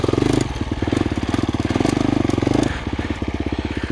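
A 2025 KTM 350XCF dirt bike climbs uphill in first gear on light throttle, its engine a close, rapid pulsing thump that holds steady, then eases briefly and picks back up.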